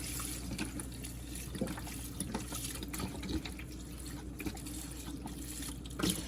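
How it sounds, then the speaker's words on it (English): Chicken broth pours over cabbage in a cooking pot as a steady, soft liquid splash and trickle, continuous and fairly quiet, with a few small clinks. "so we pour the chicken broth in there"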